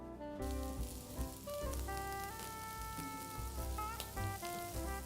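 Vegetables for a veggie Wellington caramelise in a pan, giving a steady, faint sizzle like light rain under a sustained layer of background music, with no voices present.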